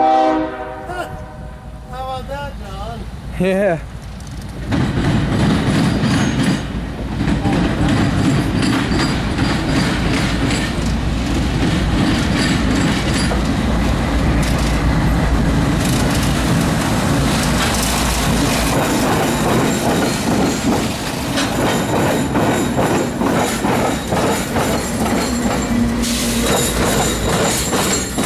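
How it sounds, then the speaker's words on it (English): Two CSX locomotives roll into the old Erie rail yard with a loud, sustained rumble, squealing wheels and clattering cars, plus a horn blast near the start; a few words of talk come through briefly. "two CSX locomotives came rolling up and ran back into the old Erie rail yard"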